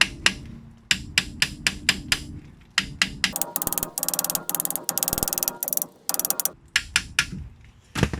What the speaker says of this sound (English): You can carefully hammer it.